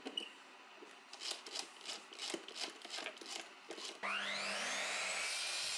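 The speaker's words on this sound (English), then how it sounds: "I'm going to drill holes for the threaded inserts." Irregular rubbing and scraping on wood for about four seconds, then a steady motor whine starts up and holds as a drill press spins up to bore holes in wood for threaded inserts.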